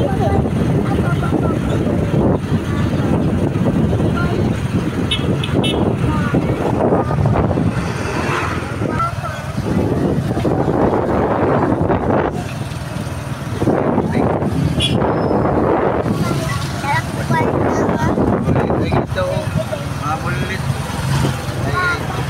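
Strong wind buffets the microphone outdoors, a loud continuous rushing roar that swells and dips for the whole stretch with no other sounds standing out.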